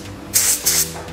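Two short, sharp hisses of compressed air through a paint spray gun, being tested before painting the rear of a boxy Suzuki Karimun, each burst lasting about a fifth of a second over a low background hum.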